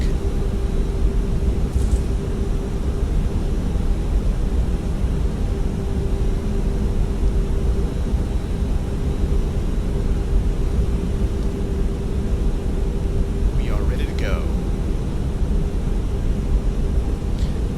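Airbus A340-600 jet engines roar during takeoff in Microsoft Flight Simulator, a steady, dense rumble with a sustained tone throughout, a few faint chirps briefly rising above it near the end.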